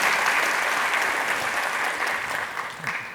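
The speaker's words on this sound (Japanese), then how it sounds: "じゃあもう一回拍手しておきます" A roomful of attendees claps at a Ruby programming conference talk, producing a loud, continuous wash of applause that tapers slightly toward the end.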